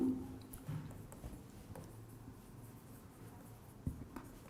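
Chalk or marker scratches on a board during a lecture on transformer hysteresis losses, with soft, close strokes and occasional taps in irregular rhythm against a quiet room.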